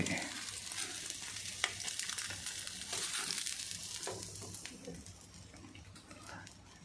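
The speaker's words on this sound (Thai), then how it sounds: "หมูสามชั้นนี่ย่างยาก" Fatty pork belly sizzles and spits on an outdoor grill, a soft continuous crackle with scattered pops, fairly quiet and steady throughout, with no speech.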